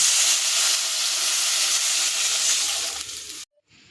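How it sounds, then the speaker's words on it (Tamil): Water from boiled dal is poured into a pan of sautéed onion and garlic for rasam, setting off a loud, steady, close sizzling hiss that fades and cuts out abruptly near the end. "இப்போ நம்ம பருப்பு வேக வச்ச தண்ணியை உள்ளே சேர்த்துக்கலாம்."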